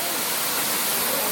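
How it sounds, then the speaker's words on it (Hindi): A forest waterfall in Jim Corbett, tiger territory, roars as a steady, close, dense rush of falling water with no break. "क्या ज़बरदस्त ये झरना है"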